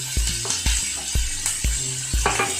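Onion and tomato sizzle in a pan for Kerala fish curry, a steady frying hiss punctuated by regular knocks of a spoon stirring against the pan, close and clear.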